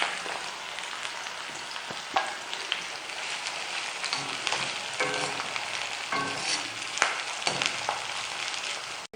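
Finely chopped onion sizzles and fries in hot oil for achari bhindi, a steady crackling hiss with occasional louder pops and stirring, close and continuous with no talk.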